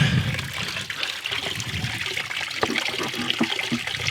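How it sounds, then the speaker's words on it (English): A small spring-fed waterfall trickling down, a close, steady splashing and babbling of water that runs continuously with no voices over it. "I found the spring. Well, at least a little waterfall of it."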